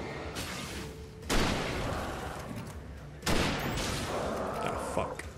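Gunshots in Alan Wake: two heavy, booming bursts of gunfire, the first at about a third of the way in and the second near the middle, each followed by a rumbling tail over background game noise.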